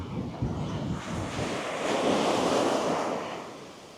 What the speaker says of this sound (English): That is the sea.